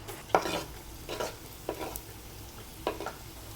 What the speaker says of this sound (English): Stir fry the garlic cloves for around 3 to 4 minutes or until you see that the color begins to change